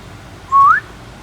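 One short, clear human whistle used to stop a deer, a quick upward-sliding note, sounds loud and close against faint outdoor background noise.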